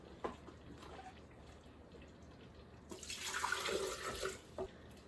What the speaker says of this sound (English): So let's go ahead and add our 2 cups of water to our blender.